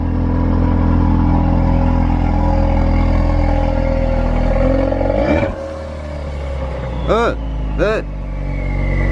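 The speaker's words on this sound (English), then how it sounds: "That sounds good. Give it a little rev." Car fitted with a loud aftermarket exhaust on an RS, idling with a deep steady rumble, then blipped in two short sharp revs near the end, each rising and falling quickly, close and loud.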